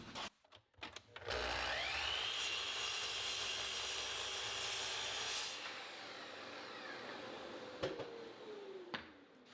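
A power saw cuts wooden planter stiles to length in a woodworking shop, spinning up and then biting through the board with a steady, loud whine for several seconds before winding down, with a few short clunks afterward.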